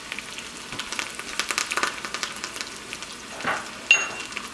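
Curry leaves and onion crackle and sizzle in hot oil, with rapid spitting pops and occasional stirring scrapes, heard up close and without any voices.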